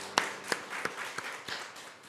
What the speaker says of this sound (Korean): 우리에게 성찬을 허락하신 주님께 감사와 영광의 박수를 드리겠습니다.